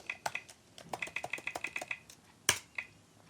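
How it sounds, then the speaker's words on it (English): Computer keyboard keys clicked while a password is typed, a quick run of about a dozen close, crisp key clicks with one louder sharp keystroke near the end, no talking. "see if you can work out what I'm typing here from the clicks"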